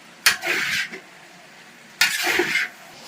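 Herbal hair oil is stirred vigorously in a pot, making two bursts of scraping, sizzling agitation separated by a quieter pause, close and without talk.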